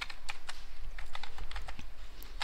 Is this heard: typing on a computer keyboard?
yes